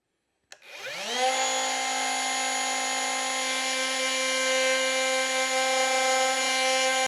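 A wood router spins up abruptly and holds a loud, steady high whine while cutting a rabbet in wood, close by and with no talking.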